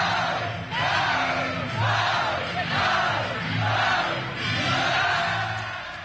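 A high school student section roars and cheers for the Lady Bulldogs at a basketball game, loud crowd yelling rising and falling in repeated surges.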